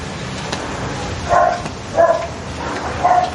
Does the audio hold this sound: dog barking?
yes